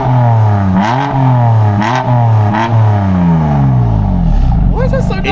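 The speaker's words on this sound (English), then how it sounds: "Should we do a little rev comparison?" A sports car engine revs loudly up close, climbing and falling in repeated throttle blips with rising pitch sweeps, then a final deeper surge, while voices talk faintly underneath.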